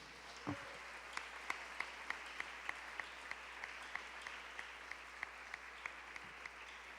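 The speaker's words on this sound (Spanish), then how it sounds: "dele ofrenda de palmas al Señor." A church congregation claps in a steady, even rhythm, regular distinct claps sounding fairly quiet and distant against a soft background hum.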